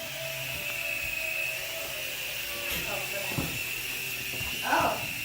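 A helicopter runs with a steady high whine and airy hiss, holding at an even level throughout while people talk over it.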